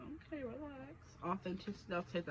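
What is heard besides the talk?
None of the usual background noises is heard.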